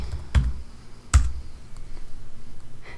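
Computer keyboard typing while searching for an image for a Cricut craft project, a few sharp isolated keystrokes close by, then quiet background.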